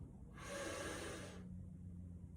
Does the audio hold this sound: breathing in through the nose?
yes